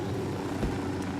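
A military helicopter in Ghost Recon Wildlands makes a brief, steady rotor and engine drone, dense and continuous with a low thump midway.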